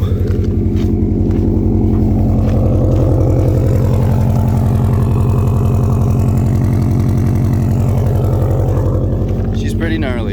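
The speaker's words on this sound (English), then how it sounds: "a Subi Depot muffler delete kit, so it's pretty loud." A 2017 Subaru WRX STI with a muffler-delete kit idles close by, a loud, deep, throbbing exhaust burble that holds steady throughout.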